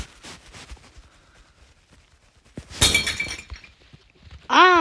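Glass is smashed with a hammer: one loud, sudden shattering crash with a spray of tinkling shards, then a brief ringing tone, after a stretch of quieter thuds and rustling.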